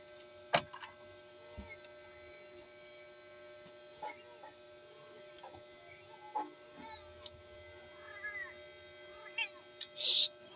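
A cat meows a few times in short, rising calls amid a quiet room with a steady electrical hum and occasional clicks.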